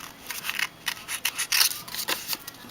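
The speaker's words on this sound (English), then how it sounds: "now this one, we're just going to cut the flower out." Scissors snip steadily through paper, cutting out a rubber-stamped flower colored with markers, a quick run of close, crisp cuts with short pauses.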